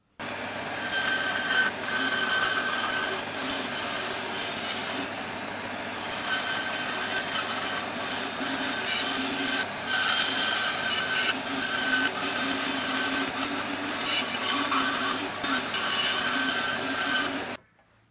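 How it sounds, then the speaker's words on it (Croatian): A Metabo BAS 261 bandsaw cutting wood with a 6 mm blade while a dust extractor runs, the extractor's loud, steady whoosh dominating a soft hiss from the blade for the full length before stopping abruptly. "Znači, usisivač se ovdje čuje zapravo najviše, a mašina samo šuška."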